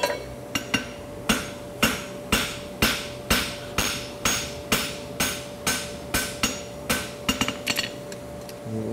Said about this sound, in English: I'm going to scarf it at an angle like this, leaving the front corner thick.